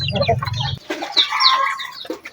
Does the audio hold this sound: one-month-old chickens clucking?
yes